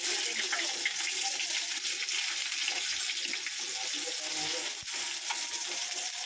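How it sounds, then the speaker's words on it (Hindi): Onions for biryani fry in hot oil in a kadai, a steady close crackling sizzle running throughout with no talk over it. "अभी यहाँ पे मैंने कढ़ाई तेल गरम करी हूँ और अभी मैं फ्राई करूँगी ये कांदा बिरिस्ता के लिए।"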